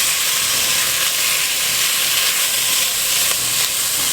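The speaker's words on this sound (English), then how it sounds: "I'm going to add in my ham. We're just going to cook this for about 3 or 4 minutes" Ham sizzling in a Dutch oven over medium heat, a steady, close, loud hiss that runs evenly throughout with no talking.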